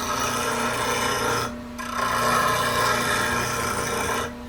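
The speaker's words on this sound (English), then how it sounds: "Always remember to let this thing come up to speed, any grinder" A bench grinder sharpens a bowl gouge held in a Varigrind jig, giving a steady rasping grind with a hum beneath it. The grind eases off briefly partway through, comes back, and fades again near the end.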